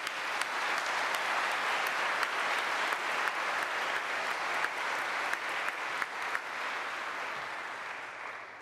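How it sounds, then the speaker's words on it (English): A congregation at a Confirmation Mass in a cathedral claps in a sustained, fairly distant round of applause, with scattered sharper claps on top, thinning and fading over the final seconds with no voices. "Let's give them a nice round of applause."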